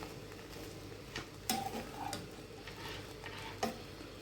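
Bread pieces fry over medium heat until golden brown for masala bread, giving a soft, steady sizzle close by with a couple of sharp clinks from a utensil against the pan and no voices.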